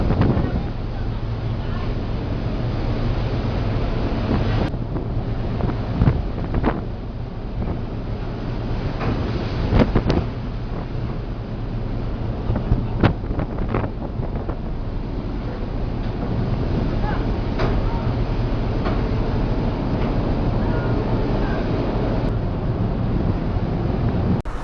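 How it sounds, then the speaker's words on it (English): Storm wind buffets a giant cargo ship carrying timber through heavy seas, a loud, constant roaring rush with gusty surges and waves crashing around the hull, dense and unbroken throughout. "A giant cargo ship transports timber during a storm."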